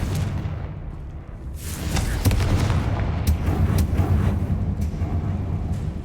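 Confringo fire spell blast in the video game Hogwarts Legacy, a loud rumbling explosion with crackling burst after a low ambient bed, sustained roaring noise continuing to the end.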